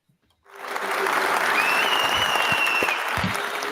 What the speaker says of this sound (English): Can we have a big applause as well?